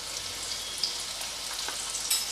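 Bitter gourd pieces with a little salt and turmeric fry on a high flame, a steady, moderately loud sizzle with occasional pops and sputters.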